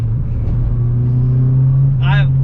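A car engine braking while driving gives a steady, loud low drone throughout, with a short vocal exclamation near the end.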